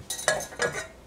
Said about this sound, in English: Maybe I need to stir a little bit.